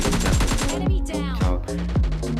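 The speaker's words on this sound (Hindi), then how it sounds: "आगे से मुझे 3-4 लोगों की फायरिंग आ रही है" Rapid automatic gunfire in the mobile battle-royale game PUBG Mobile Lite, loud repeated bursts of shots firing in quick rhythm with brief pauses between volleys, continuous across the moment.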